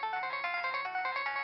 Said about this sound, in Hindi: ये किसका फोन बजा है?